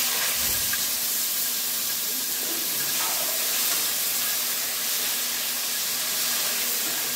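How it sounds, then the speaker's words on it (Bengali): Chopped onion and tomato fry in hot oil with a constant, close, fairly loud sizzling hiss that holds steady from start to finish, with no talking. "এবার আমি তেলে দিয়ে দেবো কুচো করে রাখা পেঁয়াজ আর টমেটো"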